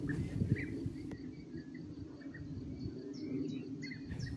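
European bee-eaters twittering outdoors, scattered soft liquid chirps and trills at a distance over a steady low background hum, no voices present.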